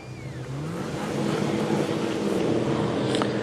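Speedway race car at Maryborough Speedway on a lap of honour after a Top Stars final, engine note rising and holding loud and steady with a rough, revving roar, no talk over it.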